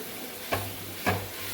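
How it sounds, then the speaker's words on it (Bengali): Food frying dry in a pan, with two brief scraping stirs over a soft steady sizzle, close and moderately loud. "এটাকে পুরো শুকনো করে ভাজতে হবে।"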